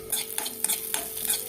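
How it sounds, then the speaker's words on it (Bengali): Chopped cashews and pistachios fry in hot ghee in a wok, giving a bright, close sizzle, while a utensil stirs them in regular scraping strokes. "ঘি গরম হয়ে গেছে, ওর মধ্যে দিয়ে দিব এই যে কাজু পিস্তা কুচি করা।"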